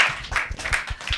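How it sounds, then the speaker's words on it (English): An audience claps for a teacher in a short burst of steady, close applause. "Let's clap for our teacher,"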